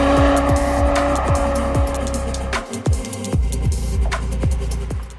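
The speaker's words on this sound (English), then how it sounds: "The engine is sensational with that induction noise" A Porsche 718 Spyder RS drives on the road, its engine and intake roaring loudly as it climbs through the revs in quick repeated bursts, with rapid upshifts and a short lift off partway through.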